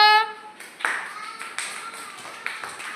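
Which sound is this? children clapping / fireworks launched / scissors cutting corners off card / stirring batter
children clapping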